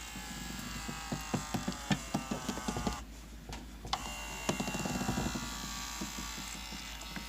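LG refrigerator ice maker tray flipping during a test cycle, a quiet series of rapid plastic clicks and ratcheting taps over a low motor hum, pausing briefly before more clicking resumes.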